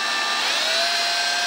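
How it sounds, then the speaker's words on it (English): A small grinding wheel bevels the inside edge of a ring made from a silver quarter, giving a steady, high-pitched whine with a bright tonal edge. It runs loud and close for the whole clip, with no talking. "We're going to try to bevel the inside of it with this little grinding"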